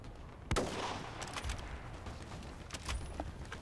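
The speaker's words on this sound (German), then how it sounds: "Ich höre richtig die Schüsse" Gunfire from the online shooter game Battlefield Play4Free crackles in several sharp shots and short bursts over a constant background din, fairly close and loud.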